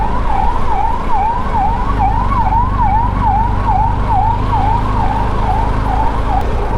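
An ambulance siren wails in city traffic, a loud, close, rapid rising-and-falling yelp repeating steadily over the low rumble of road traffic.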